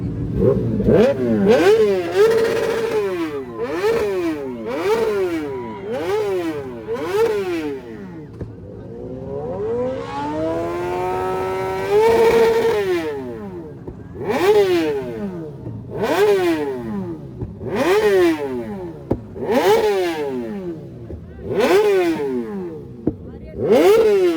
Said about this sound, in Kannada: ಸುಜುಕಿ ಹಾಯಾಬೂಸಾ ಇದ್ರ ಜೊತೆ ಯಾವ್ದೈತ್ರಿಪ್ಪ ಅಕ್ರಪೋಯಿಚ್ ಐತಿ ಈಗ ಪೂರಾ ಸೌಂಡ್ ಬರ್ತೈತಿ